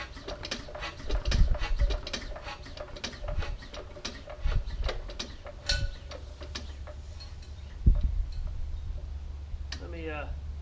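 Vintage Australian-made McDonald diesel engine being hand-cranked, giving a steady series of ratcheting mechanical clicks and clunks with occasional heavier thuds, while a person talks nearby.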